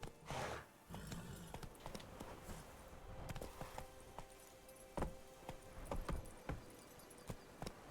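Horse Roach from The Witcher 3 clip-clopping at a quick pace, hoofbeats irregular and mid-distance over a busy game soundscape with scattered sharp clicks.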